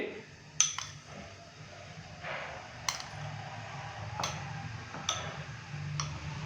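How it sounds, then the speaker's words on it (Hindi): A spoon clinks against a bowl while yogurt is mixed into a homemade spice masala for beef achar gosht, a few sharp taps scattered between soft stirring, close and quiet with no talking. "अच्छे से हम इसको मिक्स करेंगे।"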